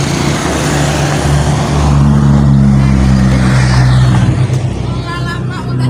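A car passes close by on a road, a loud steady engine and tyre rumble that swells in the middle and fades slightly toward the end, with people chatting in the background.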